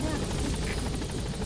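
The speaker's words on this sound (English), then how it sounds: "Support helicopter has arrived." Support helicopter in the Metal Gear Solid V video game arriving, a steady loud rotor chop and engine drone filling the whole short stretch, with game speech partly over it.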